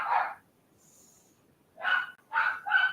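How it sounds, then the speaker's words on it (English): Several dogs bark in short bursts: one bark, a pause with a faint high tone, then three quick barks in succession, fairly close and clear with no talking. "Dogs making lots of noise."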